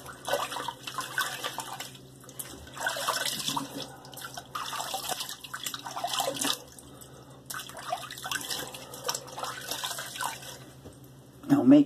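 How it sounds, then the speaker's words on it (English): Tap water runs and splashes in a sink while a face is rinsed, broken into uneven bursts of splashing with short pauses, fairly close, with a voice briefly at the end. "I'm going to rinse my face."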